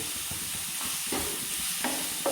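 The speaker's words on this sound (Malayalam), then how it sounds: "ഉള്ളി ഇളക്കാൻ വേണ്ടിയിട്ട് നമ്മളെ കുട്ടി ഷെഫിനെ ഏൽപ്പിച്ചിട്ടുണ്ട്" Onions sautéing in a pan for Kerala-style aloo paratha, a steady low sizzle with a few scraping stirs, close and moderately quiet.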